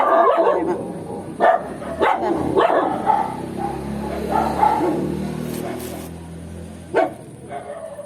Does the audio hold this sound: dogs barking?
yes